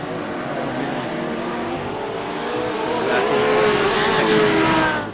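GT3 race cars, Porsches and an Audi, run nose to tail around Sebring in a racing video game, their engines droning steadily and rising in pitch as they pass, under a commentator's voice.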